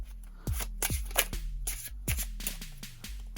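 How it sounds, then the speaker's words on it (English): Several crisp riffles of a deck of cards being shuffled close by, each a quick burst of flapping snaps followed by a short pause. "give it a few more shuffles"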